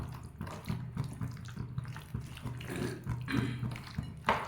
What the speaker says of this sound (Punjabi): ਆਪਾਂ ਥੋੜਾ ਜਿਹਾ ਪਾਣੀ ਐਡ ਕਰ ਲੈਨੇ ਆ ਬਿਲਕੁਲ ਹੀ ਥੋੜਾ ਜਿਹਾ